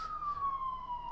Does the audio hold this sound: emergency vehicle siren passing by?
yes